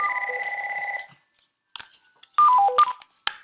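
Phone ringtone playing a repeating melodic tone for about a second, then a short gap, then a brighter burst of stepped notes and a click, heard while dialing into a BlueJeans meeting by phone, close and clear.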